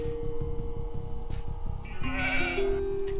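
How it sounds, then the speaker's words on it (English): Sheep bleat repeatedly in the Age of Empires 2 strategy game, several overlapping calls over steady game ambience, with a higher, brighter cry near the end. "Ah, some more sheep."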